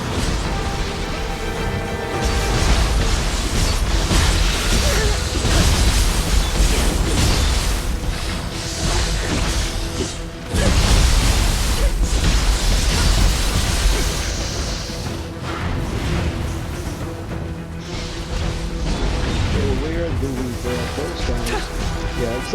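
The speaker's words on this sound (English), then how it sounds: "Now let's throw some shurikens on these guys. and some fire too." Shurikens and fire ninjutsu are unleashed in Nioh 3 combat, a loud continuous flurry of whooshing throws, fiery bursts and crashing impacts layered over a game score, with one sharp break midway.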